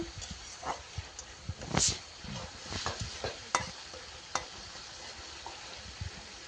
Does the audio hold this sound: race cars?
no